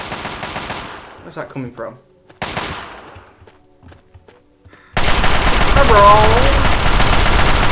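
Rapid automatic gunfire in the video game Fallout 3, loud sustained bursts that fill the last few seconds, preceded by quieter game sounds and someone talking.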